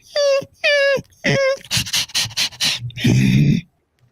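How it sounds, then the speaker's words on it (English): Close and fairly loud, a dog gives three high whimpering whines and then a run of quick, breathy panting. "sounds like a dog."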